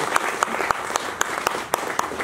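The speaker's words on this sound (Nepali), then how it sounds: "उहाँलाई जोरदार ताली गर्छौँ" An audience gives a pianist brisk, close applause at a poetry-with-piano performance, with dense clapping running throughout and a murmur of voices underneath.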